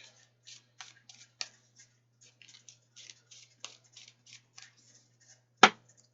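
Tarot cards shuffled by hand in a quiet room, a run of soft papery riffles and taps with short pauses, ending in one sharp louder snap of cards near the end; a faint steady hum sits underneath.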